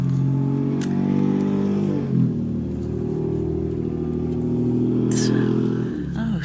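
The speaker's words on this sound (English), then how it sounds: "Neighbors with their vehicles." Neighbours' cars rev their engines and drive past a backyard: a loud, sustained mid-pitched engine drone that rises and shifts in pitch as the vehicles accelerate, with a couple of brief sharp squeaks cutting through, continuing for the whole clip.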